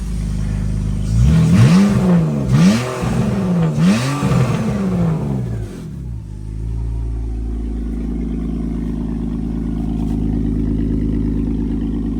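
A BMW E46 coupe engine, now breathing through a new 3-inch ovaled single exhaust, revs in several sharp rising blips up close before dropping to a steady, rumbling idle.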